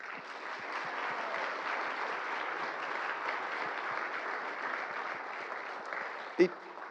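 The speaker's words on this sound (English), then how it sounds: "give another round of applause for the incredible performances today" Steady applause from a sizable crowd at a retirement celebration after performances, fairly distant and even throughout, with one sharp knock or thump near the end.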